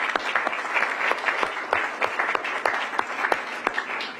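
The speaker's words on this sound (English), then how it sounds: "Can I get a round of applause just for everybody?" Steady applause from a crowd at a transit center ribbon-cutting event, hands clapping continuously at moderate volume for several seconds with no talking over it.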